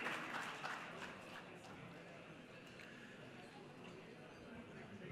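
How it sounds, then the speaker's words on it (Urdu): Indoor audience at a Karachi dialogue event applauding a speaker's introduction, a dense wash of clapping that starts strong and settles into steady, fairly faint sustained applause. "خواتین حضرات، آپ کی بھرپور تالیوں میں حافظ نعیم الرحمان صاحب"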